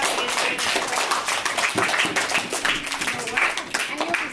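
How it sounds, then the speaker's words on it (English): A classroom of children claps for visiting guests. The applause is loud, close and continuous throughout, with a voice heard alongside it. "Let's give them a big clap for coming in"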